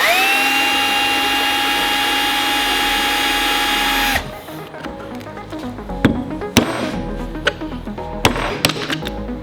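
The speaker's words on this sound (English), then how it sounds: "trying to drill out a speed sensor" A loud, steady power drill whines for several seconds drilling out a seized speed sensor on a Mitsubishi Lancer Evo 8 knuckle, then cuts out, followed by sharp metallic knocks and clatter of tools working on metal.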